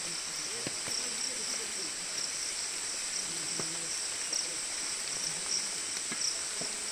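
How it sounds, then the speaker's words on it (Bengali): Forest crickets on Parasnath Hill keep up a continuous shrill chirping drone, pulsing slightly, with faint scattered taps and a low background hiss underneath. "ঝিঝি পোকার ডাকটাই হচ্ছে পরিবেশটাকে আরো মায়াবী করে তুলেছে"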